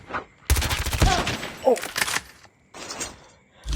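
Rapid bursts of Call of Duty gunfire crackle through the clip, with louder flurries early and a brief lull before the shooting resumes.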